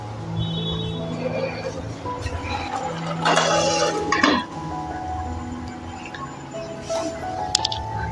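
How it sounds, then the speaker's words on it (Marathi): A lid is set onto a pan on the stove while sheera cooks for breakfast, giving a brief metallic clink in the middle among soft kitchen clatter and background noise. "आता यावरती आपण झाकण ठेवूया।"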